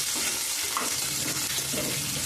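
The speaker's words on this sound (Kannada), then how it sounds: "ಈರುಳ್ಳಿ ಹಾಕ್ಕೊಂಡು ನೀಟಾಗಿ ಇದನ್ನ ಬ್ರೌನ್ ಕಲರ್ ಬರೋವರೆಗೂ ಫ್ರೈ ಮಾಡ್ಕೋಬೇಕು ಈರುಳ್ಳಿನ" Onions fry in a pan toward brown for a mushroom biryani, a dense, steady hiss of sizzling oil without pause, close and even throughout, with no talk.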